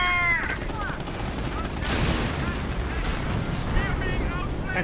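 Hummel self-propelled artillery in the Company of Heroes game firing during a battle against German vehicles, heard as rumbling booms and crackling gunfire under a continuous din of combat, mixed with a commentator's voice.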